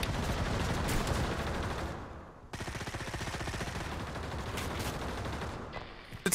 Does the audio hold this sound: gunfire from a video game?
yes